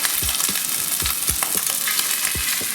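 Scallops searing in a hot pan, a constant loud sizzle broken by soft low thumps as each one is set down, with no talking.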